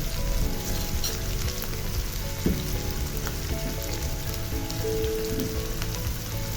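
Turmeric, chili and cumin powders sizzle in hot oil in a pan for a mixed vegetable fry, giving a constant crackling hiss with a brief clink partway through.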